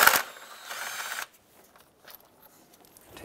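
A bolt is worked loose on the engine of a 2003-09 Toyota 4Runner, giving a short burst of close metallic ratcheting and scraping, then mostly quiet with a few faint clicks and taps.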